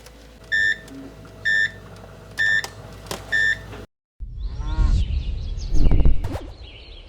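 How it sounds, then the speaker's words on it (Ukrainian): Automatic egg turning in a Ryabushka Turbo 120 incubator: four short regular beeps, a brief pause, then a sustained mechanical whirring and rattling of the turning tray, rising toward the end. "Демонстрація роботи автоматичного перевороту."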